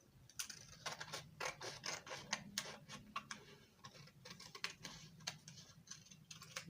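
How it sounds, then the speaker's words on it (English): Scissors cutting the darts out of a paper corset pattern give a close, irregular series of crisp snips and paper rustles, rapid and clicky, with no talk. "So cut out the darts,"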